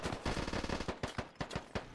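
Rapid gunfire from the military shooter Squad, a dense string of close, loud shots and bursts crackling in quick irregular succession for a couple of seconds, with no talking.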